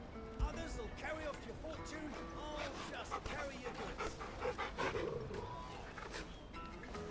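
A dog pants in short rhythmic breaths in Final Fantasy 16, close and fairly quiet, mixed with soft game ambience.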